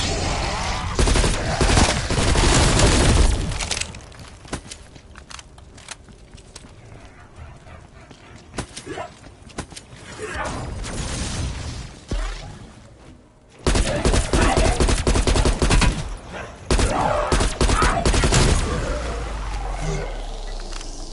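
Rapid bursts of gunfire in Call of Duty Cold War zombies, loud and dense, start and end the stretch, with quieter game noise between and a voice talking over parts.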